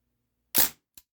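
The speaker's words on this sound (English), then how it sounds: "This isn't a very loud air rifle, so I'm assuming it's pretty backyard friendly." A single shot from a Panther Arms DPMS SBR air rifle firing lead BBs: a short, fairly quiet pop followed by a faint second tick, with silence around it.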